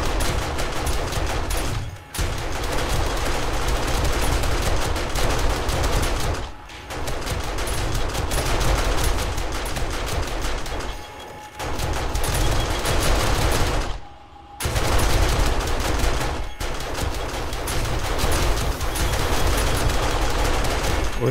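Magnum gunfire in the survival game 7 Days To Die during a blood moon night: long stretches of loud, rapid, steady shooting, broken by a few short pauses, with no talk over it.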